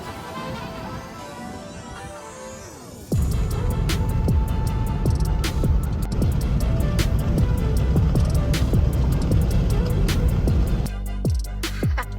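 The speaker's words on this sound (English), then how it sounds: "So it's running. It doesn't seem to be misfiring anymore. It's idling a whole lot better." A truck engine idles steadily after a misfire repair, a loud even rumble that starts abruptly after a few seconds of quieter background and holds throughout with small shifts.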